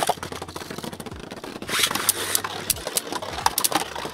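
Beyblade Burst tops, including Dread Fafnir, Heaven Joker and Poison Dragon, whir in a plastic stadium with rapid sharp clicks and clashes as they collide, loud and close.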